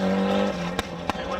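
At Jack's Ridge, a racing car powers along the track with a loud, sustained engine roar, broken by two quick sharp bursts that may be gear changes or tire noise, across just over a second.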